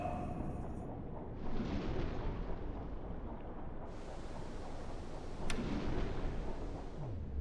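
Torpedoes fired from a submarine in a World War II U-boat video game produce two heavy whooshing launch bursts over a constant deep rumbling underwater drone, loud and close, with no talking.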